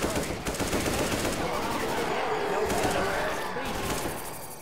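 Rapid gunfire rattles in Left 4 Dead 2 gameplay, fast bursts of automatic shots that gradually thin out and fade, with a voice speaking over the shooting.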